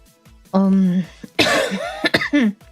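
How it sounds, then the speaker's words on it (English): A sick person coughs several times in short harsh bursts, close and loud, with brief voiced sounds between the coughs. "Excuse the coughing, I am sick."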